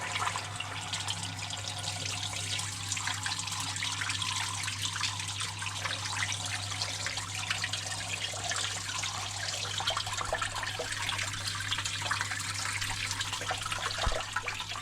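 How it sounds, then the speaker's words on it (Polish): Water from a homemade aquarium filter splashes and trickles steadily under a low constant hum, a continuous wet spattering that stays even throughout with a small knock near the end. "Pryska wodą, bo to nie jest dobre połączenie."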